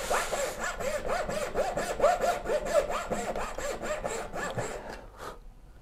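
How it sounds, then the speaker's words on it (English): A new hand saw cutting through wood while building a Shaker-style cabinet, about a dozen close rhythmic rasping strokes back and forth before the sawing stops. "Now, am I sawing straight?"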